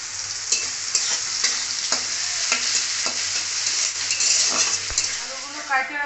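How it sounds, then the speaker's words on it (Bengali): Onion and potato fry loudly in a pan for a rohu fish curry, a dense continuous sizzle with repeated spatula scrapes and stirs; a voice talks briefly near the end. "পেঁয়াজের সাথে আলুটাকেও ভালো করে ভেজে নেব।"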